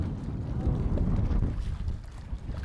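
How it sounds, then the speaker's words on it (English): Wind gusts buffet the microphone in a steady, loud low roar on a sailboat at sea during wing and kite foiling, with no speech over it. "Wind is finally here."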